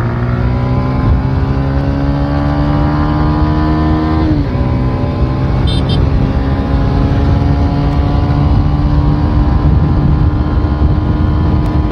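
A 2023 TVS Rider 125 motorcycle accelerates hard through the gears while riding, its engine note climbing steadily, dropping briefly at a shift, then rising again under loud continuous wind rush.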